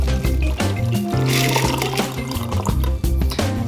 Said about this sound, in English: so now we're gonna pour the cocktail in.